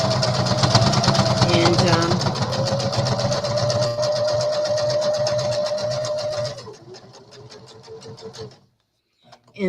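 Domestic sewing machine stitching denim quilt blocks together, running in a steady continuous whir for most of the stretch, then slowing and stopping near the end, with a faint voice underneath.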